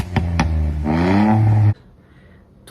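A modified car exhaust gives a few sharp low pops, then a deep rising rev that climbs and stops abruptly, followed by quiet.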